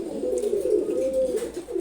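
A pair of Sabji Gorra pigeons coo in a low, continuous, rolling murmur that swells and dips over about two seconds, close by and with no talking.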